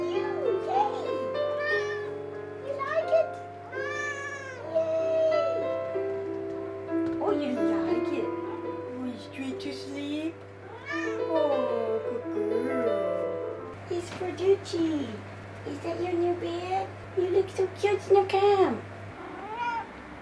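A pet cat meows repeatedly in a home in Japan, several rising and falling calls of varied length, fairly close and soft over a faint steady hum, with someone talking quietly in between.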